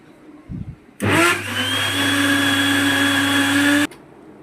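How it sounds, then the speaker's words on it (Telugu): A mixer grinder runs continuously, blending melon juice with sugar and milk; a loud, steady whirring motor hum starts abruptly, holds for about three seconds, and cuts off sharply. "మిక్సీకి అయితే పట్టేస్తున్నాను."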